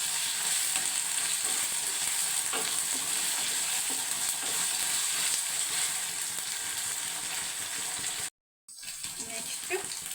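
Ginger garlic paste sizzles in a hot pan for carrot palya, stirred steadily with a continuous frying hiss and scraping for about ten seconds, broken by one brief cut of silence.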